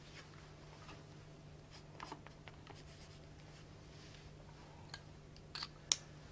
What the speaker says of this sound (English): A card is chosen, signed by the spectator